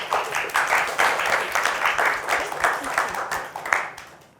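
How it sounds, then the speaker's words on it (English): A conference audience claps for two panel speakers at the close of a session on online brand building: a steady, moderately loud patter of many hands lasting several seconds before tapering off, with no talk over it. "a round of applause for Rachel and Venya."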